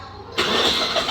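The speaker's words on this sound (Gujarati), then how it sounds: "પેપ ચાલુ થઈ ગયું." A scooter engine turns over on its self-start after repair and catches abruptly, settling into a steady, close running idle.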